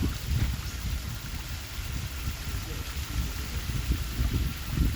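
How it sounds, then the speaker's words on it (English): Small waterfall on Victoria Peak in Hong Kong flowing under a bridge and down a hill, a continuous rushing, splashing wash close by, with steady low turbulence throughout. "There's a waterfall."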